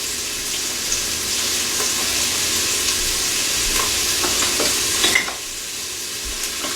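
Onions frying in a pot as a chicken soup base, with a loud, steady hiss and crackle. A brief stir or scrape comes near the end, then the sizzle settles, close and with no talk.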